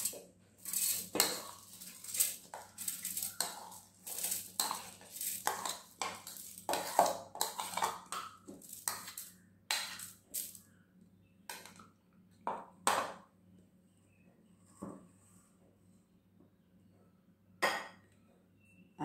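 Soaked raw rice tipped into a mixer grinder jar, giving a run of bright clinks and clatters of grains and metal, loud at first and thinning out to a few sparse knocks, with no talking.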